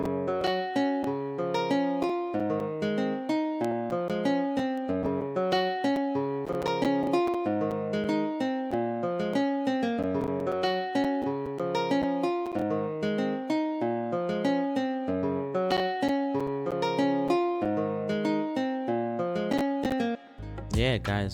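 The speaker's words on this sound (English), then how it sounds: "It's nylon guitar, AC nylon guitar to guitars and pluggers." Nylon-string acoustic guitar sample looping steadily inside a hip-hop beat, bright plucked notes in a repeating pattern over a constant rhythm, loud and continuous with no voices until a brief cut near the end.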